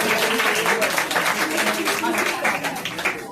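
An audience at an anniversary stage event claps steadily for a performer, a dense, sustained applause lasting the full three seconds with crowd voices mixed in.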